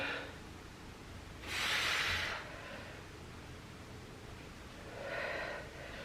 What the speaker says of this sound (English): Breathing in on the way down, out on the way up with exertion.